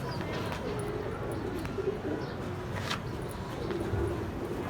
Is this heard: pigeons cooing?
yes